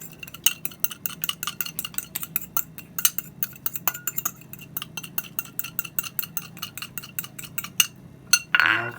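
Fish seasoning being stirred together with lemon juice in a bowl: a long run of quick, bright utensil clinks and taps against the dish in an uneven rhythm, fairly close and loud, with no talking.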